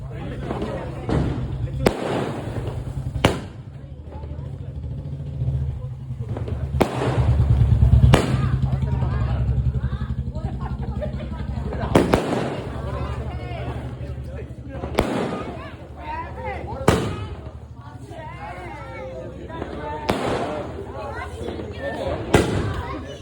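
Firecrackers burst in a series of sharp, loud bangs spread irregularly over time, with people talking and an engine rumbling in between.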